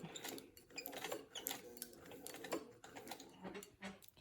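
A hand-cranked sewing machine back stitching through denim on a bag, a faint, quick mechanical ticking and clatter that runs unevenly throughout.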